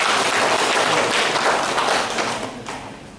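Audience applause at a civic speech event, a steady dense wash of clapping that holds for a few seconds and then tapers off toward the end.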